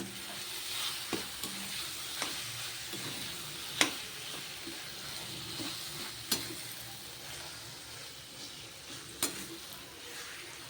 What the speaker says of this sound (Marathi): आता यामध्ये आपण भरीत घालून घेऊयात आणि हे सुद्धा व्यवस्थित मिक्स करून घेऊया